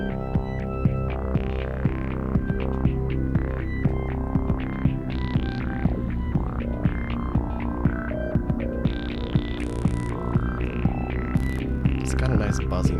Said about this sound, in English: We're going to make a literal chaotic line. It's going to come from sampling pure white noise.